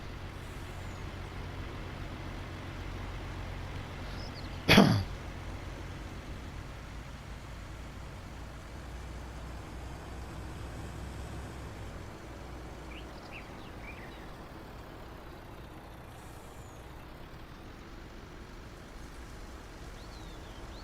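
A truck driving in Farming Simulator 19, a low steady engine drone with a single sharp air-brake hiss near the start, otherwise a quiet, even rumble throughout.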